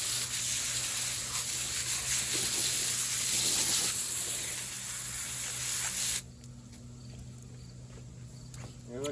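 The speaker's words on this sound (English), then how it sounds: "Now I'll go around and spray these." Close, continuous hiss of a hose spraying water over dirty Alpinestars Tech 10 and AXO Dart Pro motocross boots, with shifting tone as the spray moves, then abruptly shutting off to quiet.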